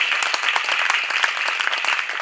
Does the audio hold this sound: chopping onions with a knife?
no